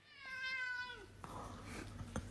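A cat gives one clear drawn-out meow with a falling pitch, close and moderately loud, followed by softer rustling and faint background noise, with no speech.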